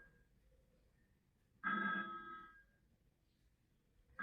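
A mobile phone rings in one short, bright tonal burst of about a second, fairly loud against a quiet room, then the space falls silent again.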